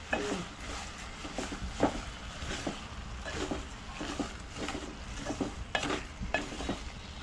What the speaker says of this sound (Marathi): आता ही व्यवस्थितपणे वितळेपर्यंत मिक्स करायची आहे ना